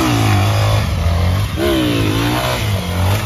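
A Honda XRE 300 motorcycle engine revs loudly up close, its pitch dipping and climbing again through a couple of throttle blips over a constant rough drone.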